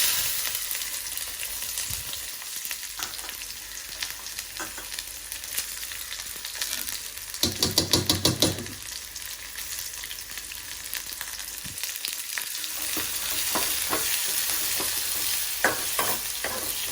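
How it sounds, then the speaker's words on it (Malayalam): Finely chopped small onions sizzle while tempered in hot oil, giving a constant close hiss with scattered stirring scrapes and a short burst of louder spattering partway through. "ഈ ചെറിയ ഉള്ളി ചെറുതായിട്ട് അരിഞ്ഞു വെച്ചതിട്ട് വറവിടാം"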